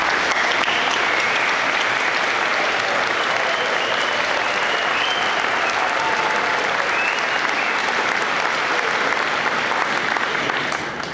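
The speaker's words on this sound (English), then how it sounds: "Would you stand and everybody give them a round of applause?" Sustained audience applause at a community centennial celebration, a dense even wash of clapping from a large crowd that holds steady throughout with no talk over it.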